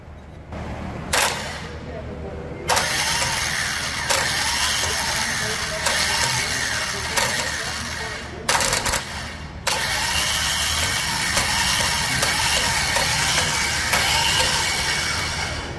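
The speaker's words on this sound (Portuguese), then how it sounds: "Olha o motor de partida agora aí." Starter motor of a Toyota SW turbo engine cranking, a steady whirring roar that cuts out in short breaks and resumes several times, fairly loud and close with no talk.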